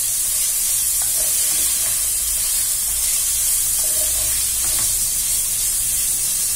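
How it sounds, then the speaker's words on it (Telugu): Chicken frying in hot oil in a pan for fried rice, a steady loud sizzle and hiss throughout with occasional faint scrapes of stirring. "దీన్ని నూనెలో వేపాలి, నూనెలో వేయించుకోవాలి."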